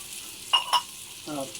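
Whole spices hitting hot oil in a pan, with cinnamon, cardamom, cloves, garlic, ginger and cumin, giving two quick sharp crackles followed by a short burst of sizzling, close and clear.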